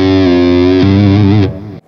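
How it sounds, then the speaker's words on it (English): Electric guitar on the bridge pickup with the tone knob rolled fully off, giving a darker distorted tone: one sustained chord, a second struck chord, then a quick choke into silence, loud with no voices. "If I take that tone all the way out, just like I did on the neck pickup,"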